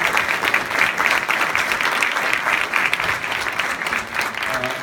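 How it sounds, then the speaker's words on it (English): Sustained applause from a crowd at a Bhakta Prahalada drama performance, steady clapping filling the whole stretch at an even, fairly loud level. "So once again, a big round of applause."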